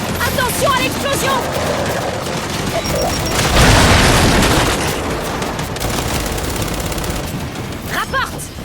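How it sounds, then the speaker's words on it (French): Gears of War 5 firefight with an explosion: a loud booming blast rolls out amid rapid gunfire and clattering bursts, with voices shouting over the battle noise. "Attention à l'explosion!"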